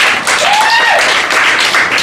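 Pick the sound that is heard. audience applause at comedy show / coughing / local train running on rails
audience applause at comedy show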